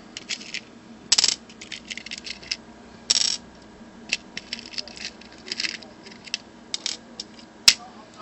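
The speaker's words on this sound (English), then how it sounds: "Cut the wire to however long you want it." Cutters snip through the wire of a ThunderPower LiPo battery. A few sharp, isolated clicks stand out among lighter handling and rustling noises, with no talking.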